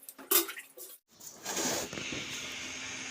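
Large flour and rice containers being washed in a bathroom, with plastic clunks and knocks followed by a steady rush of running water nearby.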